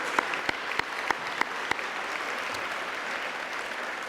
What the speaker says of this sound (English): can we get another round of applause right there?